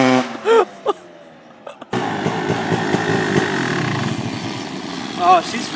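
A 1999 Kawasaki KX250 dirt bike ridden in snow, its two-stroke engine buzzing steadily and revving after a brief stretch of talk at the start.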